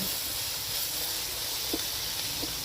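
Green chilies and ginger frying in hot oil give a steady, close hiss with faint bubbling crackle, continuous and without talk.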